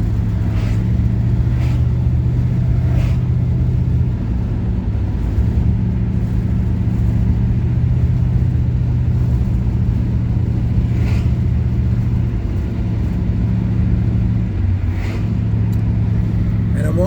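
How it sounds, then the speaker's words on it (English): A car engine drones steadily while driving, a low continuous rumble with slight shifts in pitch and occasional road noise. "hear how the car sounds"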